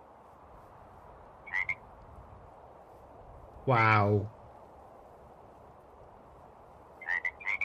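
Frogs croak in a Minecraft game with the ZAWA zoo animal mod: a single long, ribbed croak stands out at mid-clip, with shorter chirpy calls before and after, and brief speech nearby.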